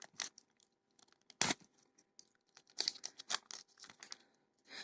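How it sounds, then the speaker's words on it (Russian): A small sachet holding a cough patch is torn open along its perforation, giving sharp crinkly rips and rustles of thin packaging in short irregular bursts, close and fairly quiet, with no speech. "Вот здесь вот есть перфорация, чтобы открыть нам пакетик."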